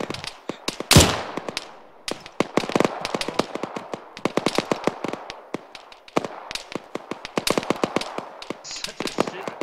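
Dense gunfire in the Arma 3 video game during a beach landing assault: rapid, irregular sharp cracks and bursts, some close and loud, others farther off, forming continuous rattling automatic fire with occasional single shots. A voice speaks faintly beneath.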